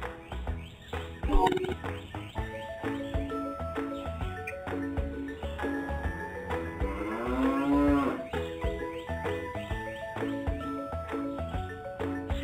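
A cow moos in a children's animal-learning game, one long, low drawn-out moo in the middle over continuous cheerful background music.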